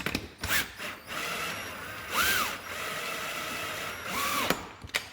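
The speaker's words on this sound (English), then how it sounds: "10mm spanner." A 10mm spanner works the bolts on a dinghy wheel, giving close metallic ratcheting clicks with short rubs and scrapes that come in bursts, with no talk.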